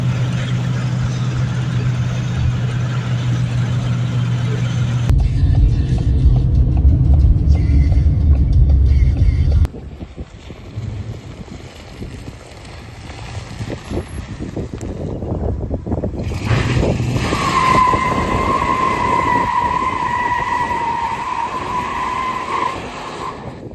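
A 1995 Ford F-150 pickup truck runs with a steady, loud low rumble mixed with wind buffeting and road noise. The tone shifts partway through, and a higher whine joins near the end, with no talking.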